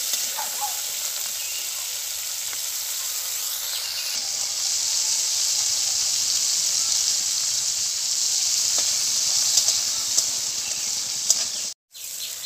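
Crabs sizzling in hot oil in a pan, the soft-shelled river crabs with their shells left on, a steady, close, bright frying hiss running throughout with faint pops and a brief dropout near the end.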